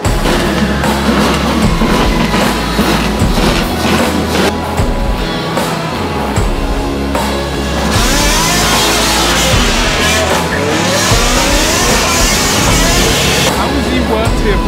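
Car doing a burnout, the engine revving hard over hissing and screeching tire noise, loud and close, with excited voices talking over it.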